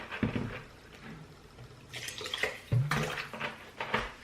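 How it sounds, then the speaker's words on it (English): Oxtail is washed with vinegar and water in a sink, with soft splashing, sloshing and dripping in close, irregular bursts. "Wash my oxtail with vinegar."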